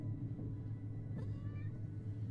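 A house cat meows softly over a steady low rumble, a short faint cry near the middle with thin wavering tones, no talking.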